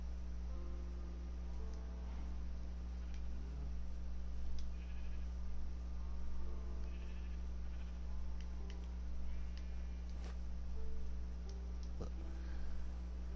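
Sheep bleat in the video game Minecraft, a few faint scattered bleats over a constant low hum and occasional clicks, distant and quiet.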